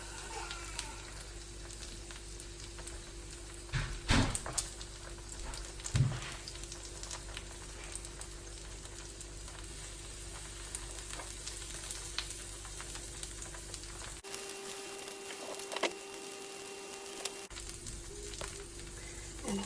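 Okonomiyaki sizzles steadily on a hot griddle with strips of cooked bacon laid across the top, a soft continuous frying crackle with a few sharper pops and spatters, fairly quiet and close.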